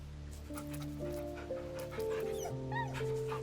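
A dog in camp in Baldur's Gate 3 whimpering and softly yipping while being petted, with thin, high whines over steady background game music.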